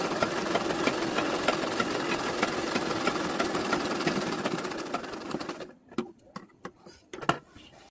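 A pico sewing machine stitching the edge of a saree gives a rapid, loud mechanical chatter for several seconds, then slows into a few separate clicks and thumps as it stops.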